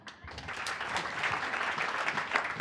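A meeting audience claps for a volunteer in a lively burst of applause, starting abruptly and holding at moderate volume, slightly distant.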